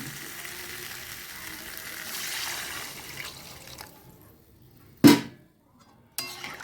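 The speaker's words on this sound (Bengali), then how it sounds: "এবার আমরা জল দেবো।" Water poured into a pan of fish curry with potato and pointed gourd, a steady close pouring and simmering wash that fades, then a sharp clatter and a brief final burst of sizzling.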